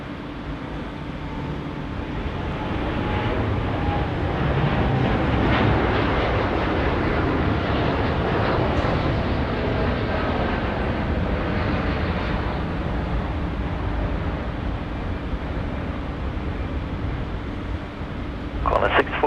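A Boeing 787 taking off at Sydney Airport, its engines a broad, steady roar that swells slightly and then holds for the whole stretch, with a voice speaking over it.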